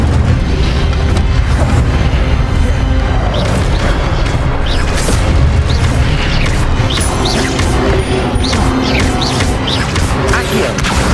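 Spells are cast in the Hogwarts Legacy video game, a fire spell among them, with repeated booming bursts and crashing impacts over a dense, loud battle din that runs without pause.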